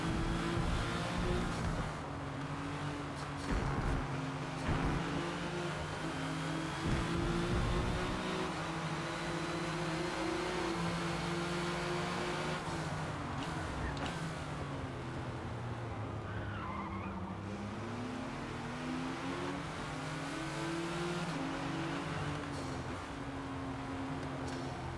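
A '97 Porsche GT1 lapping Catalunya GP circuit in Forza Motorsport, its engine droning loud and close as it revs up and down through gears, with tires skidding and squealing through the corners.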